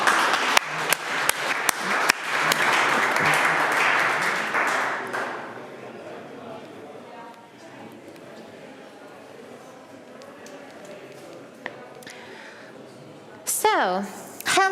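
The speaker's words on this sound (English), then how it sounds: "So please give a big hand of applause." Applause from a conference audience, a short run of sharp claps building into a dense round that fades out after a few seconds, followed by quieter room noise and a few stray sounds.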